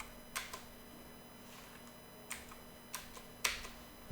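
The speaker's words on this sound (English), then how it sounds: "I'm actually typing pretty quick" Fast typing on a computer keyboard gives a few sharp, scattered key clicks with gaps between them, close and crisp over a faint steady hum.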